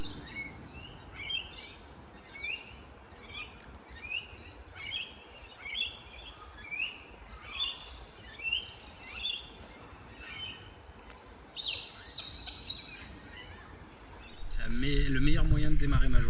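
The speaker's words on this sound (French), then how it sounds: "il y a des oiseaux partout" Birds chirp in Carlton Gardens beside a museum aviary in Melbourne, with short repeated tweeting phrases at a steady rhythm over quiet park ambience, ending in a burst of louder calls and then a rush of wind or handling noise.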